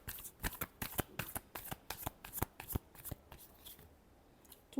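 A deck of tarot cards is shuffled close up in quick riffling bursts, about a dozen sharp papery flutters in a steady rhythm, then a brief pause near the end; quiet setting, no talking.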